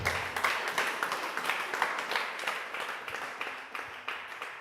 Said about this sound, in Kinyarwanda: dukomere Yesu amashyi